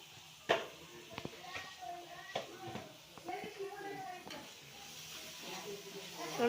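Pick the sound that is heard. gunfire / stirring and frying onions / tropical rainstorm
stirring and frying onions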